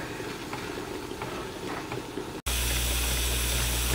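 An old American model steam engine runs on steam with a steady hiss and churning rumble, which jumps abruptly to a much louder, fuller roar after a brief cut partway through.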